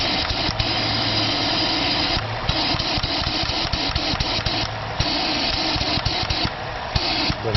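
A Magnum engine, first start after a dropped valve seat, runs with a choppy, mid-pitched rumble, free-revving and surging and dipping in quick repeated revs; no voices.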